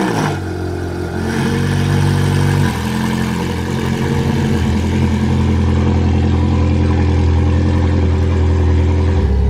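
A car engine idles and then settles into a steady, loud rumble as the car is pulled out, with a brief change in pitch early on and no talking.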